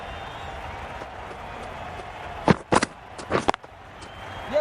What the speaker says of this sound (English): The crowd are really getting quite raucous. It's going to be difficult to focus down in the middle with this amount of noise.